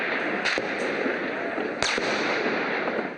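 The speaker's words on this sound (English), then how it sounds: "Live ammunition rang out this morning in the center of Ukraine's capital" Gunfire from live ammunition cracks out during street clashes on Kiev's Independence Square: a few sharp reports, one near the half-second mark and another near two seconds, over a dense, loud background din.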